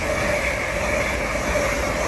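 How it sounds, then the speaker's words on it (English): LNER unit 801203 on a London King's Cross to Edinburgh service passes through Doncaster station on the East Coast Main Line as a loud, close, steady roar with a faint whine over it. "Passing there is 801203 on the LNER service from London King's Cross to Edinburgh"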